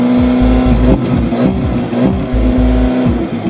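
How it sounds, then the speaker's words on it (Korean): An Audi S3 sedan growls through its dual exhaust pipes with loud, close, repeated revving pulses that rise and fall in quick succession, heard alone. "양쪽에는 듀얼 배기 파이프를 적용을 해서 아주 멋스러운 엔진음을 들려줍니다"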